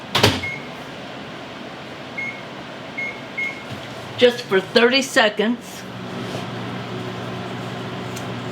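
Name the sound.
microwave oven running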